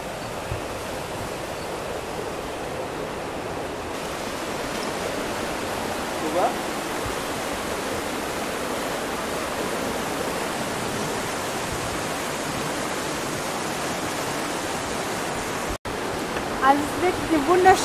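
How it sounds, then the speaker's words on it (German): The river in Sapadere Canyon, Alanya, rushes past as a continuous broadband roar of flowing water, steady and fairly close, with a brief dropout and a few small knocks near the end. "Und auch hier findest du die Naturgeräusche, den Fluss, sehr, sehr schön."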